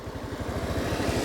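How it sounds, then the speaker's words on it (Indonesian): A motorcycle engine putters steadily and close by while being ridden along a village road, a low rhythmic chug with no talking. "Mungkin ada suara mesin motor karena saya naik motor."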